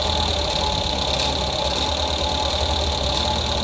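A car engine runs steadily during an RPM check with an engine tune-up tester, a close, continuous idle hum with a low throbbing pulse and no change in pace.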